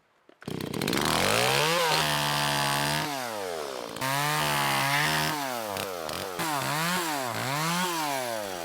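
A petrol chainsaw, unused for a couple of months, cuts up a dead log for firewood in Victoria's High Country, Australia. The engine snarls loud and close, revving up and down repeatedly as it bites through the wood, with no talk.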